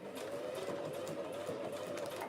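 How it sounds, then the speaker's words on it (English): A sewing machine stitches through thick, bulky neoprene seams on a sequin mermaid tail, giving a steady, fairly quiet mechanical hum with no speech over it. "my sewing machine really hates the seams because they're very bulky because the neoprene's fairly"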